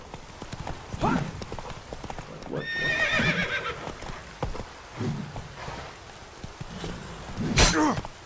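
Horses in The Witcher 3 video game clatter with hoof clip-clops and let out a clear, loud neigh midway, with another sharp whinny near the end during a mounted fight.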